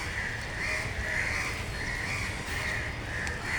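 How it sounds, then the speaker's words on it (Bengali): Many crows caw repeatedly in rhythmic calls over steady city background noise in Dhaka, fairly faint and continuous. "আসলে ঢাকা শহরের মানুষের ঘুম ভাঙে কাকের শব্দে,"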